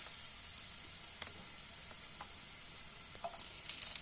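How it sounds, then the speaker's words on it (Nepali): Garlic and ginger fry in hot oil as the base for sadheko chowmein, producing a constant bright sizzle with a few small pops and crackles, close and unaccompanied by speech. "अब तेल तातिसकेपछि हामीले तेलमा चाहिँ हामीले अब लसुन, तीन केस्रा, अदुवा सानो कुड्का लगाएर एकैछिन फ्राई गर्नुपर्छ।"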